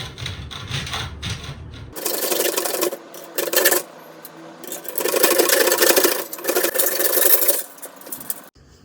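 A soft wooden strip is cut by hand in rasping, sawing strokes that come in several bursts separated by short pauses, close and fairly loud, after a quieter stretch of handling at the start.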